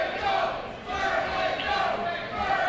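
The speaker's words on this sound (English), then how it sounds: "what was a split crowd before certainly sounds like a pro Vertigo crowd now" A wrestling crowd at a live pro event roars steadily in a large hall, a dense wash of cheering and shouting that swells and dips slightly without letup.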